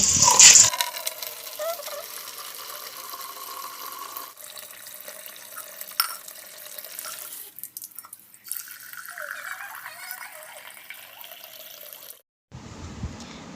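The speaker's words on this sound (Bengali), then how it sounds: "জল আসলে জলের তলায় ধুয়ে নেব" Tap water runs steadily while fruits are washed beneath it at a home sink, a continuous splashing rush that shifts in tone as the items move under the stream, then cuts off near the end.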